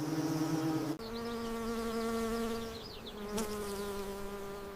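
Giant cliff honey bees and tropical dwarf honey bees fan their hives in the heat, making a steady, close, droning buzz with a harmonic whine. A brief click breaks it near the start and another sounds later.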